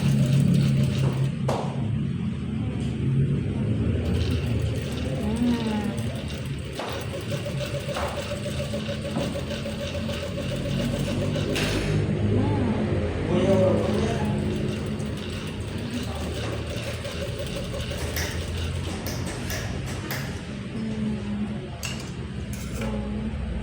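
An electric sewing machine runs continuously in a sewing lesson, a steady mechanical whir and clatter that holds for most of the stretch with slight changes in pace, close and fairly loud, with no talk over it.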